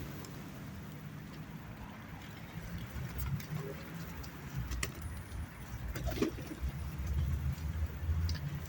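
Pigeons flock to food thrown onto an outdoor path. Faint cooing and occasional wing flutters sit within soft ambient noise, with a voice murmuring nearby.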